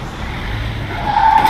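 A truck drives and skids in Spider-Man Remastered on PC: a steady engine rumble builds, then a sustained tire squeal rises near the end, loud and close.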